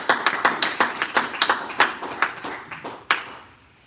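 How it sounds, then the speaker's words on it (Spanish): A small church congregation claps together, a sparse, uneven run of distinct hand claps in a reverberant room that tapers off into quiet near the end. "Denle un fuerte aplauso al Señor."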